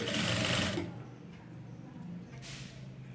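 A sewing machine stitching folded back neck piping runs briefly and loudly at first, then drops to a low hum with a light scrape, close by.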